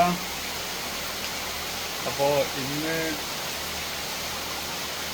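Heavy pouring rain falls as a dense, even hiss filling the background throughout, while someone talks briefly over it.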